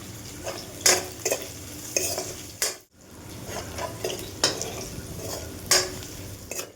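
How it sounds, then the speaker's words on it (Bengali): Okra stir-fried with salt, turmeric and chili-garlic paste in a pan, giving a steady sizzle broken by several sharp scraping stirs and utensil knocks, close and clear, with a brief silent gap midway. "লঙ্কা রসুন বাটা, ভালো করে কষিয়ে নেব,"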